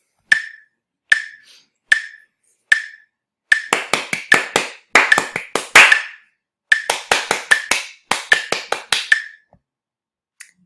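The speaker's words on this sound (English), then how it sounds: "I'm going to clap these first four measures here" Sharp hand claps in a syncopated ragtime rhythm, a few spaced single claps at first and then dense accented clusters of claps, loud and close with no talking.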